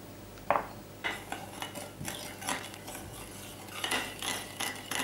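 Metal utensil scraping and clinking against a bowl while whisking egg yolk with milk, in irregular bursts of stirring.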